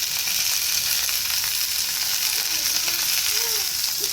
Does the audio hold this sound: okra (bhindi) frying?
yes